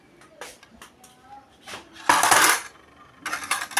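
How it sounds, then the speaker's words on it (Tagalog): Plates and dishes being handled and set out for a home meal, a few light clinks and clatters followed by louder scraping and rattling of ceramic and cutlery, close by. "Kuha po muna ng plato at para po makakain na."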